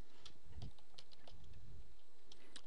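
Quick, irregular computer keyboard taps and mouse clicks rattle close by at low volume during work in Navisworks software, a light patter of keystrokes with no voice.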